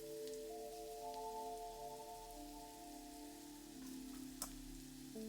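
Garlic frying in a pan for garlic rice gives a quiet, steady crackling sizzle, with faint tonal sounds and a single sharp tick near the end.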